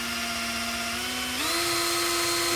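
A drill-powered pump from an SP Tools quick-flow kit whines steadily while transferring glycol through a hose, its motor pitch stepping up partway through, loud and close.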